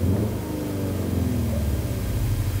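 Simulated engine sound from a Hyundai Veloster Custom Fit Extreme Driving Edition, played through the cabin speakers in Extreme mode: a steady low, throaty drone with rising harmonic tones as the car accelerates, heard alone without talk.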